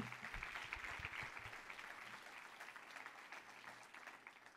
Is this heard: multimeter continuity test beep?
no